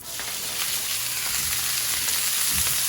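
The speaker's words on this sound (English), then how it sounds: "reheat a little more high temperature oil to cook off the cabbage" Cabbage and bok choy frying in hot, high-temperature oil after mushrooms are removed from the pan, a loud, steady, close sizzle with faint crackles throughout and no voices.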